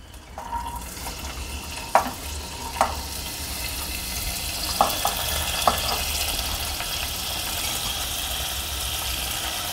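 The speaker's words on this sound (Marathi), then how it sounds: "या ठिकाणी आपण या कोवळ्या कोवळ्या शेंगा याच पद्धतीने असं तेलामध्ये भाजून घ्यायच्या आहेत" Tender cowpea pods roasting in oil in a cooking pot, a soft continuous sizzle with a few sharp clinks of a utensil against the pan, steady and close.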